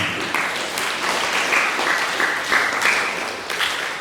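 A congregation at a Buddhist vihara anniversary celebration breaks into applause, a steady, fairly loud rush of many hands clapping together, continuous throughout with no voices on top.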